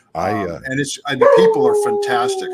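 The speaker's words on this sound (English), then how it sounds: "Sorry, that's my dog." A pet dog howls in a long, drawn-out wail behind an ongoing voice call, rising over continuous speech for more than a second near the middle of the clip.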